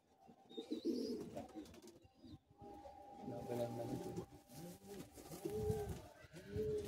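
Pigeons at a pigeon sale in Bagnan coo in low, repeated throaty phrases close by, with someone talking over them throughout.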